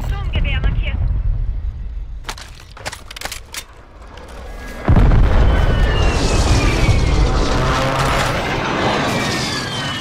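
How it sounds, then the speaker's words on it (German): In Call of Duty, a car explodes suddenly after a few sharp gunshot-like cracks, followed by a roaring rumble of fire and debris, with voices talking throughout. "Achtung, das Auto explodiert gleich."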